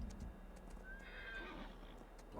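A horse gallops in Farming Simulator 22, with a faint, steady run of hoofbeats that ends in a brief whinny, heard alone and quietly.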